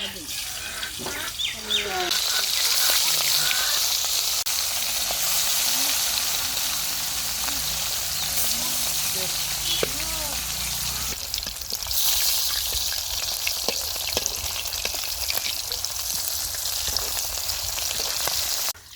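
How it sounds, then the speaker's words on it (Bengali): Fish frying in hot oil in a wok, a strong steady sizzle close up from start to finish, with occasional spatters and light stirring and some faint voices in the background. "তেল গরম হয়ে গেছে মাছ দিয়ে দিব"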